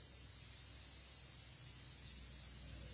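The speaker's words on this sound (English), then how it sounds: "I'm airbrushing in oils this morning" An airbrush sprays oil paint with a steady, fine hiss of compressed air, even and close for the whole span with no voices.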